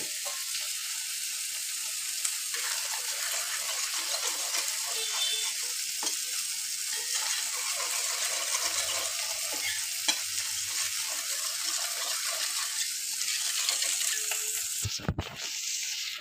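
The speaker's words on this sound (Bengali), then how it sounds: "এদিকে পেঁয়াজ ভাজা হচ্ছে" Onions frying in a pan for a Bengali rohu fish curry, a steady broadband sizzle holding evenly throughout, with occasional faint stirring clatter and a brief sharper knock near the end, no talking.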